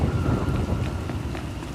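A steady, dense downpour during a thunderstorm in Star Wars: The Old Republic, with the rain hissing continuously and loudly throughout and a few faint rumbles under it.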